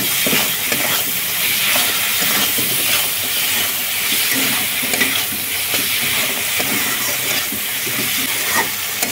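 Spice paste of chilli and turmeric sizzles steadily in a pan with crab and potatoes, a dense continuous frying hiss close by with occasional stirring scrapes and no talk.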